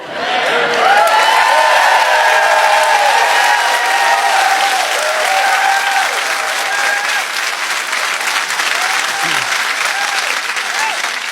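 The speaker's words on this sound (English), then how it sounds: "Supporters applauded Kielty's defiance, his cheek, his solidarity" A large audience applauds Patrick Kielty in sustained, dense clapping that stays loud and even from start to finish, with faint cheers mixed into the crowd noise.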